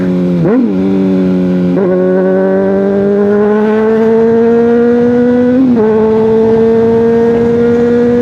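Honda CBR600RR sportbike with an aftermarket exhaust, no catalytic converter, revving loud and close, its engine tone climbing steadily through the gears with sharp breaks at each shift.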